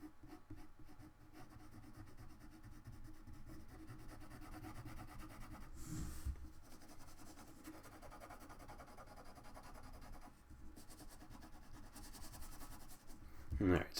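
Graphite pencil shading across rough-textured vellum paper, a soft, continuous scratchy rubbing at close range with a few louder strokes near the end.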